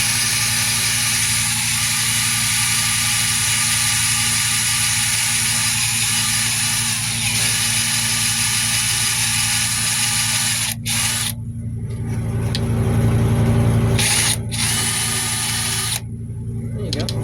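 A drill bores out a rivet through a leather rider safety buckle, a steady close whirring grind that runs unbroken for the whole stretch, with small dips and swells in strength near the end.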